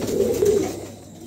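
A pair of Modena pigeons gives a close, loud, rolling coo lasting about half a second before fading out.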